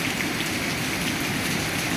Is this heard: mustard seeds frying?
no